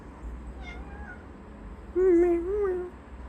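A cat meows twice in a quiet room, a soft short mew followed by a louder, drawn-out meow close by.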